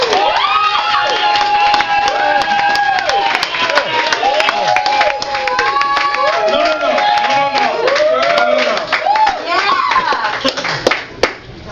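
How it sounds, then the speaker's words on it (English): Loud, dense crowd applause and cheering with whoops and shouts, sustained throughout and swelling near the end, with voices mixed into the noise. "This is being filmed, so you should applaud louder."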